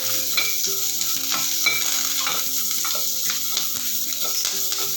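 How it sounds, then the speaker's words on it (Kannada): Onions sizzle in hot oil in a pan for bendekayi gojju, a bhindi gravy. A spoon scrapes and clinks against the pan as it stirs at an irregular rhythm, and the frying hiss holds steady throughout. "ಸ್ವಲ್ಪ ಫ್ರೈ ಆಗಲಿ ಸ್ವಲ್ಪ ಉಪ್ಪು ಹಾಕ್ತೀನಪ್ಪ ಈರುಳ್ಳಿಗೆ"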